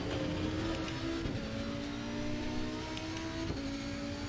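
Race car engine at speed during a race near a chicane, a steady loud drone with sustained engine tones that shift pitch as it holds and changes revs, continuous over several seconds with no talk.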